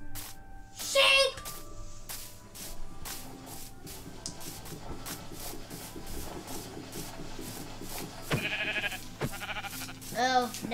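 Minecraft sheep bleat a few times, a short wavering bleat near the start and more toward the end, mixed with game clicks and a player's speech.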